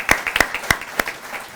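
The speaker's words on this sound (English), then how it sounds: "round of applause for you." A short round of applause at a Planting Day gathering, a handful of distinct, uneven claps from a small group, fairly close, fading out after about a second.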